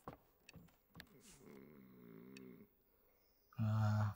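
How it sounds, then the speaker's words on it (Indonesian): A sleeping character in the game Dordogne snores softly, with a few breathy inhales and a drawn-out rumbling snore. A louder buzzing tone cuts in at the end, and no one speaks. "kayak suara ngorok"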